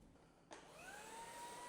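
A Shark EvoPower System Boost Plus cordless vacuum cleaner switches on over a mat and settles into a steady, rising motor whine, moderately quiet and with no voices.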